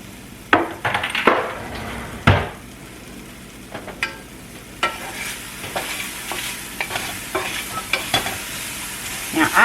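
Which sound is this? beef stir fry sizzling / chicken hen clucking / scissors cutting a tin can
beef stir fry sizzling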